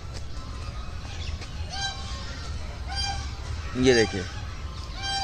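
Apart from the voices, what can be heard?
ducks calling at Lodhi Garden pond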